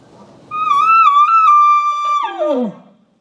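A hunter imitates an elk contact bugle with a call: one loud, clear, high whistling note that holds steady and wavers, then drops sharply into low grunting tones before cutting off.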